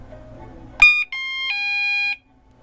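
A 1byone wireless alarm unit set to its sound mode gives a sharp electronic chime, then a short tone and a sustained steady beep of about a second, close and clear after a faint murmur.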